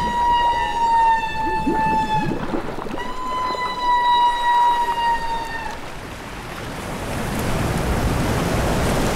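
Humpback whales bubble-net feeding on herring give a haunting underwater call: two long, steady, tonal calls rich in harmonics, each lasting a few seconds, over a constant wash of water and bubble noise.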